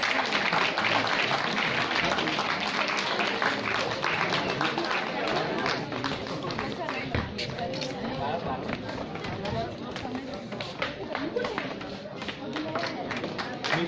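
An audience applauds at a prize distribution for an inter-school one-act drama competition, a dense, continuous crackle of clapping with voices talking throughout.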